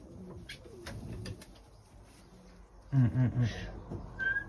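A sturdy, heavy male Belgian long-distance racing pigeon coos close by, a short run of three or four low, throaty pulses after a quiet stretch with faint background sounds.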